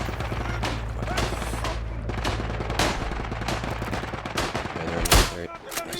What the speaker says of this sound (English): See if I can get a shot on one of them.